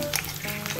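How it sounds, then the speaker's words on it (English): Onions and ginger garlic paste fry in oil in a karai, giving a brief, steady hiss and crackle with a soft stirring scrape. "I put all the onions and ginger garlic paste and fry these mixtures until it turns light brown"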